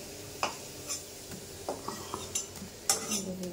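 Bitter gourd pieces frying in ghee in a pan, with a utensil scraping and clinking against the metal every second or so over a faint, steady sizzle.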